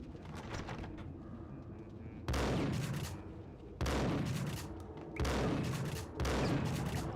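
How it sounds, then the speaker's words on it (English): Gunfire from the Max Payne video game: several loud, sharp bursts of gunshots in quick succession, each ringing out over steady game background ambience. "So, can I shoot that maybe?"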